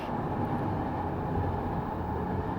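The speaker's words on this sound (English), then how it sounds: "I talk over the fucking trains." A steady, heavy low rumble of trains passes outside a comedy club, a continuous droning roar holding at an even level throughout with no voices.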